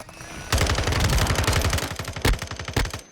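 Rapid automatic fire from a Lockman submachine gun in a first-person shooter game, a loud sustained burst of closely spaced shots running about two seconds, then a few separate louder cracks near the end.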